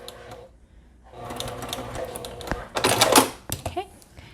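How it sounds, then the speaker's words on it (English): A sewing machine stitching a quarter-inch seam back and forth on a fabric pouch, with bursts of rapid mechanical needle chatter, brief pauses and clicks between passes, fairly close and clear, with no talking over it. "I'm just going to sew them together using a 1/4 inch seam allowance. Just go back and forth a couple times."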